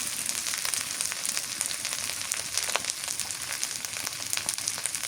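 Hilsa fish pieces fry in a pan with turmeric and cumin, a steady, close, crackling sizzle running unbroken from start to finish with no voices.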